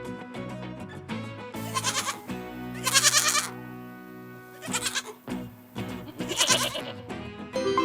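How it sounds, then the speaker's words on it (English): A goat gives several loud, close, wavering bleats in separate bursts with short pauses between them, with no talking. "It's a goat!"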